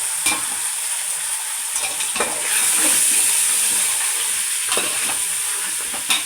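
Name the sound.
mutton frying in oil with onions and green chillies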